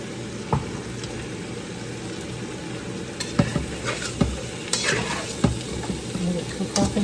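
Chinese-style ribs sizzle and fry in a pan, a constant close hiss broken by scraping stirs and clacking utensil knocks at irregular moments.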